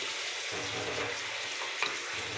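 Paneer fries in white oil with spices being added, a continuous close hissing sizzle with faint stirring scrapes throughout.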